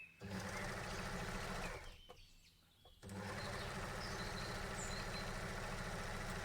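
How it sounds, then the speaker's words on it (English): An overlocker sewing machine runs with a fast, steady mechanical whir up close, pauses for about a second, then starts again and keeps running evenly. "Need to come up with a name that's going to stick for my overlocker"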